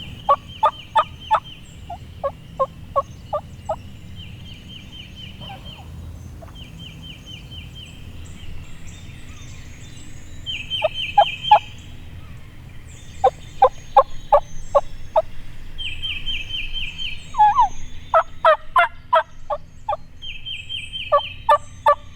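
Wild turkeys gobble from their roost in a Mississippi swamp, several bursts of rattling gobbles repeating at intervals, fairly near and loud over a quiet morning background.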